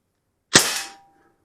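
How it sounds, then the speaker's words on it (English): A single Sig Sauer ASP MPX .177 pellet rifle firing lead pellets, one sharp, close crack that decays quickly into silence. "We're going to shoot a couple more."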